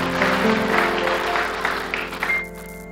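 A church congregation applauds during a Sunday worship service, a dense wash of clapping from many people over a sustained tone, fading out near the end.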